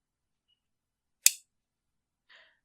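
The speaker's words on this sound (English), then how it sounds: "So I'll just trim the wire" A single sharp snip as cutters trim jewellery wire for handmade earrings, a crisp close click followed about a second later by a faint, softer tick, otherwise silent.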